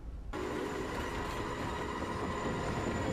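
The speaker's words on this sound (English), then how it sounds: "The train." A train rolling by nearby on the rails, heard as a loud, continuous rumble with faint wheel squeal that starts abruptly after a brief quiet moment and holds steady.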